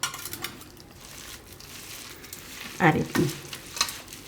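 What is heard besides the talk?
mixing rose petals with sugar for gulkand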